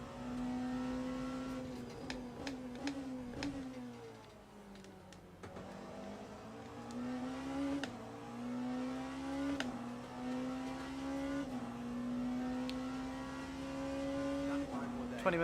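Engines of GT race cars in an endurance racing video game, a steady droning note with rising and falling pitch as the cars close in, a continuous loud hum throughout with brief dips.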